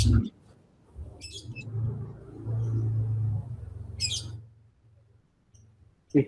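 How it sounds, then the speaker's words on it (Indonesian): Short, bright bird chirps in two brief bursts, with a low murmur of voices underneath and quiet gaps between. "Suara burungnya bagus loh itu."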